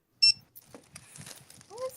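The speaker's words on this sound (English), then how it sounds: "What is this beeping? Something's beeping in my room." Electronic beeping in a room, a short sharp burst of high pitched tones near the start, then fading beneath a person talking.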